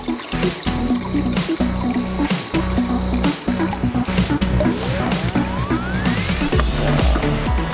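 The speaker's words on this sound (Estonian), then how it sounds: "Palun seadistage oma pumbad ja pumbake ämbrisse vajalik kogus vett." A hand pump fills a bucket with water in a timed competition, giving repeated squelching strokes and splashing drips in an irregular rhythm, close and fairly loud, with a rising whistle-like tone partway through.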